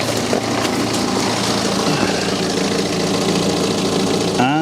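A BMW diesel engine idling on a cold start, a steady, close, loud mechanical clatter with a knocking rumble underneath that holds even throughout.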